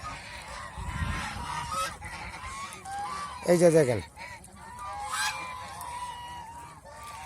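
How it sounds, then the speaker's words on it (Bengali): Geese on a goose farm at dusk cackle and honk repeatedly, with a loud burst of honking midway, while someone speaks briefly over the flock. "ছেলে হাঁসগুলি সবগুলি কিন্তু পুরানা হাঁস।"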